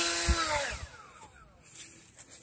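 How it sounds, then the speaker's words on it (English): A gas leaf blower, turned around and used to push someone up a hill, whines loudly, then drops steadily in pitch as it winds down, with a few low thumps early on. "Let's just take the leaf blower."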